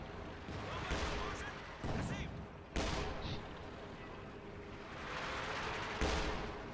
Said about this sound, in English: Katyusha is firing once again, almost certainly over in the center.